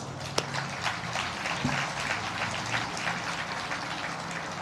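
Audience applause for donors at the Armenian American Museum groundbreaking ceremony, a steady wash of many hands clapping outdoors with scattered sharper claps standing out, sustained throughout.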